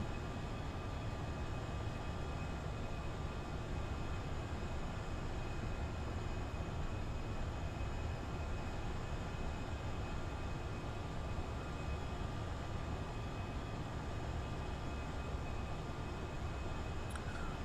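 Airbus A320 cockpit during climb acceleration, a steady loud broadband engine and airflow roar with a faint high tone, unchanging throughout and free of talk.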